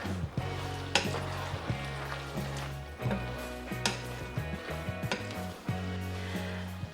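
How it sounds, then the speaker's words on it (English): Cooked elbow macaroni stirred into a simmering chili sauce of beans, ham and tomatoes in a pan, with a soft steady sizzle and repeated thick, wet scraping strokes and clinks of a utensil against the pan, close up. "I am going to put my cooked elbow macaroni into my pan. I'm going to give that a good stir."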